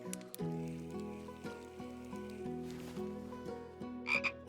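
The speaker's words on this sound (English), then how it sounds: "Green frog." A green frog croaks in the Fishing Planet fishing game, a steady run of low, resonant croaks repeating close and loud over quiet ambience, ending with a brighter splash-like burst near the end.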